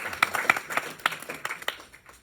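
Audience clapping at a panel discussion about Black farmers in America, a modest scattering of individual claps with a few sharp hits standing out, fairly faint and thinning toward the end.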